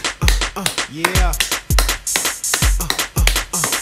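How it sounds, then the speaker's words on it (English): Steady, evenly spaced hand claps keep time with an upbeat children's dance song for a preschool music class at home, with singing and thumping beats underneath. "Let's start to clap our hands."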